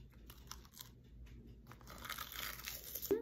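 Crunchy chewing of tuna salad with lettuce and seaweed, close and fairly quiet, with crisp crinkly bites that grow denser toward the end and a sharper crunch near the close.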